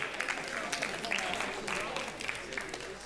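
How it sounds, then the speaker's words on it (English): Audience applause from a school group at a physics outreach event, a short burst of dense clapping heard fairly quietly at a distance with no speech over it. "Give yourselves a big round of applause."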